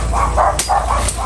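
Dogs barking outdoors at a rural home during a saba banana harvest: several short barks at mid distance, spaced across a steady background hum.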